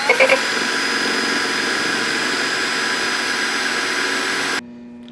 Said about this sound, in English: we're going to be drilling a hole on this angled piece here for the kill switch wires